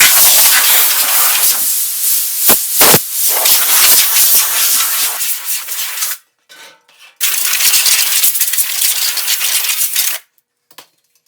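Compressed air blows sanding dust off primer on a car grille, loud hissing blasts in several long bursts broken by short gaps and near-silent pauses, with no talk.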